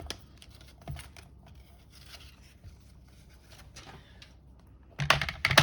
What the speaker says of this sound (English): I'm going to cut each of these on my trimmer